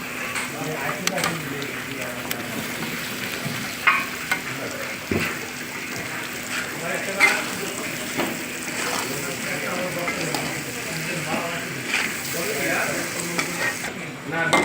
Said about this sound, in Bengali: গরম মশলা এখন ডিম আর আলুগুলা দিয়ে একটু কষায় নিবো